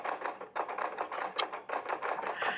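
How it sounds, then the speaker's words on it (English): Soft, distant typewriter keystrokes tapping in quick bursts with brief pauses, no voices present. "Yes, that was the sound of a typewriter."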